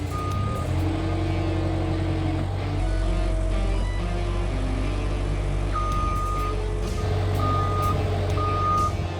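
A skid steer loader drives and reverses with a steady, loud engine drone, while a repeating reversing alarm beeps in short tones over it throughout.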